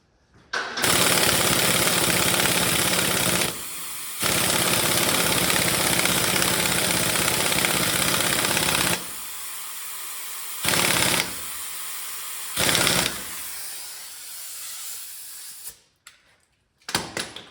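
A pneumatic air tool working on a Dana 60 axle during a re-gear, with loud sustained bursts of hissing and whirring that stop and start several times before cutting off.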